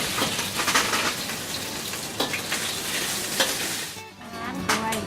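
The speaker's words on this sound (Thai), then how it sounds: "นี่เอาเบคอนลงก่อนนะคะ" Bacon fries in hot oil in a pan, a loud close crackling sizzle with bursts of popping and a brief dip near the end before resuming.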